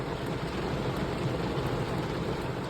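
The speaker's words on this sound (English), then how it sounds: "as I pull up, it starts pouring down rain." Heavy rain pours down in a dense, even wash of noise, loud and constant throughout with no pauses or voices.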